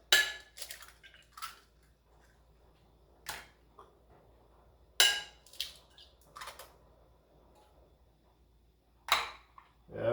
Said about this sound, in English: Crack some eggs.